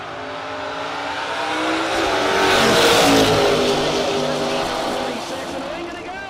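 Drag race cars, a 1967 Chevrolet Nova against a Ford Mustang, roar down a no-box drag strip, loud and building to a peak midway before easing off, with a track announcer's voice over the engines.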